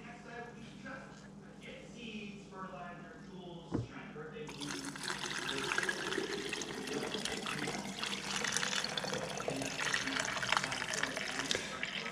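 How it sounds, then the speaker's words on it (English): Home-brewed kombucha tea fermented for four days is poured from a container into a jar, a steady splashing stream of liquid after a knock, with a person talking during the pour. "I'm gonna attempt to empty some of my tea that's been fermenting for 4 days into the jar without it spilling."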